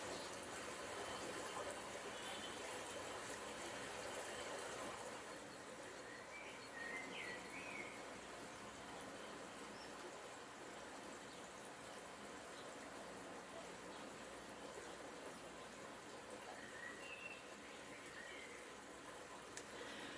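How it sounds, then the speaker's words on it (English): A rain-swollen creek rushes in a steady, continuous wash, with a few faint bird chirps now and then. "the creek is up high again and it's loud."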